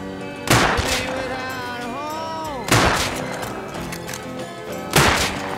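Video game gunfire: three loud, widely spaced single shots, each a sharp crack followed by a rumbling tail, with a brief tonal effect sweeping between the first two.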